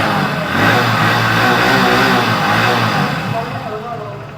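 Hero Splendor Plus Xtec motorcycle engine revved with the throttle, rising from idle into a louder, sustained rev before easing back down near the end, recorded up close.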